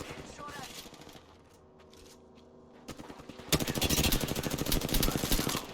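Weapon fire in Apex Legends, a dense rapid burst of shots building loud in the final two seconds after quieter ambient game sound, with a voice present.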